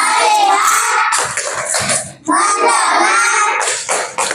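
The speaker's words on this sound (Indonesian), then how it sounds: "Tepuk fokus." Schoolchildren in a classroom do the 'tepuk fokus' focus clap, loud group chanting in rhythm with quick hand claps, broken by a brief pause before the chant resumes.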